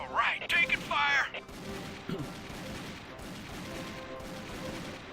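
Gunfire in the Army Men RTS video game, bursts of shots crackling under a game voice line at the start, then a steady low rumble of battle.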